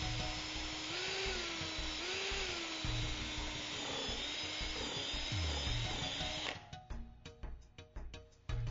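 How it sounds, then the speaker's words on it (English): A power drill with a 3/8 inch countersink bit pre-drills holes into a gate's hinge rail, whining steadily for about six seconds before stopping. Clicks and handling noises follow. "Using a 3/8 inch countersink bit, pre-drill your holes into the hinge rail"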